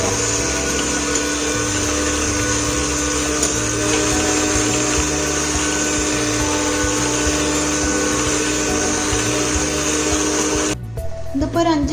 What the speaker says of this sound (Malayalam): ഇനി ഇതിൽ ഏറ്റവും ലോവസ്റ്റ് സ്പീഡിൽ നമുക്കിതൊരു 5 മിനിറ്റ് വരെ ബീറ്റ് ചെയ്തെടുക്കാം